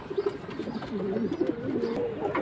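Pigeons coo steadily in a rolling, throaty murmur at a pigeon market where young high-flying Khaki, Safchila, Bagha and Laldom pigeons are sold, the calls overlapping continuously at close range with no talk.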